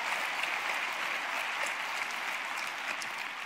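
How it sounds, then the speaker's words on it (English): A large congregation or audience applauds in a steady, dense wash of clapping that holds at an even, fairly loud level throughout, with no voices over it. "I know your applause are for Allison, those of you that have met me."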